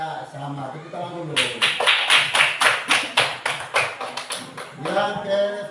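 A classroom group claps in unison, about a dozen loud rhythmic claps in quick succession, close by, with a teacher's voice speaking before and after.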